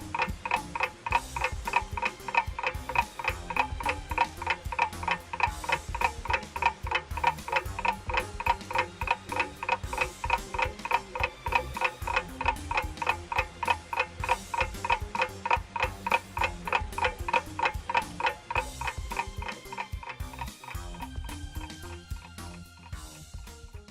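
A novelty alarm clock ticks in a steady, fast, even rhythm that runs loud and close throughout, with no one talking.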